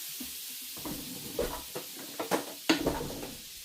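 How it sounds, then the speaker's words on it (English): Butter melting in a hot pan for garlic rice noodles, a soft, close sizzle with faint spoon scrapes and clinks against the pan, fairly quiet and with no talking. "So let's melt this butter."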